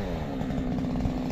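An Erman petrol chainsaw cuts in a forest, its engine a steady, close, buzzing drone held at constant high revs with no pauses.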